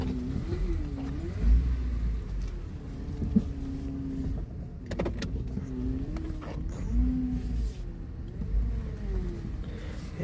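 A 2010 Chevrolet Traverse, rebuilt after timing chain work, is driven steadily. The cabin is filled with a low engine drone and road rumble, and the engine note rises and falls gently, with occasional clunks and knocks.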